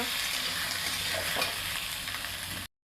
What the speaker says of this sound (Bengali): আদা রসুনের পেস্টটা দিয়ে দিচ্ছি।